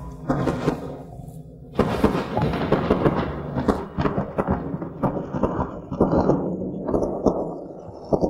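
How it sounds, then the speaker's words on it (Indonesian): Distant cannon fire booms at night during a heavy downpour, several dull low thuds rising over a steady wash of rain, some of them loud and sudden, others rolling and fainter. "Tembakan meriam di seberang yang sempat berhenti, kembali terdengar."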